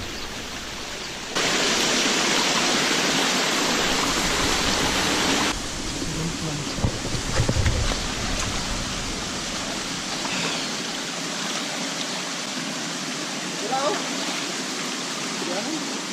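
Flowing water at Sayahan Falls in Ormoc, a steady broadband rush that stays close and constant throughout, with a louder burst early on and faint bird calls and rustling over it.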